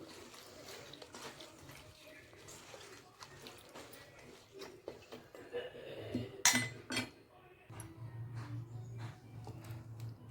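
Cut cauliflower pieces tossed by hand with salt and turmeric in a metal bowl, giving soft irregular clinks and scrapes of utensils against the dish, with some louder clatter midway.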